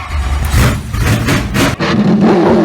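Go-kart engines at a race start at Aldershot raceway, a loud close mechanical roar revving and fluctuating, briefly dipping before settling into a steadier drone.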